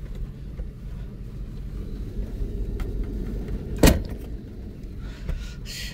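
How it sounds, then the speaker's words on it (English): A 1984 Mercury Marquis engine runs at idle, a steady low rumble held close throughout, with a brief sharp clunk like a door or latch near the middle. "I gotta run this car for a little bit"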